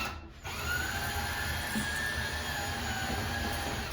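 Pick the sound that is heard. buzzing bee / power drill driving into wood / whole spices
power drill driving into wood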